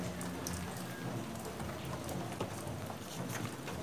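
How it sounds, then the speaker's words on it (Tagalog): Steady, dense rain pours throughout a race in Ilagan, Isabela, a continuous close hiss of drops on surfaces with no voices and no break. "Ayan, umuulan pa rin po hanggang ngayon."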